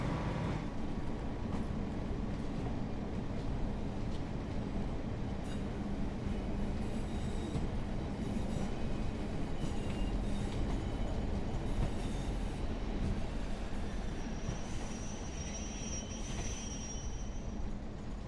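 A British Rail Pacer diesel train in the Train Sim World game pulls in on the West Coast Main Line, a steady loud rumble with wheel squeal and faint rail clatter running throughout, with no talk.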